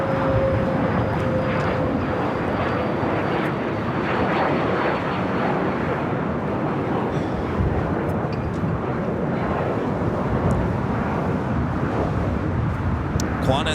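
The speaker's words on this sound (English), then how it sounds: "Qantas and 100th anniversary livery flight 95 coming in from Melbourne, a 787-9 Dreamliner" A Qantas Boeing 787-9 Dreamliner in 100th anniversary livery arriving from Melbourne at Los Angeles International Airport, a loud, steady roaring rush of jet engines close by, with a voice talking faintly over it.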